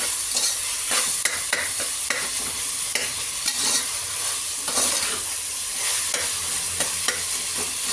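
Onions sautéing for mutton biryani in a hot pan, a dense continuous sizzle punctuated by repeated sharp stirring scrapes and clinks.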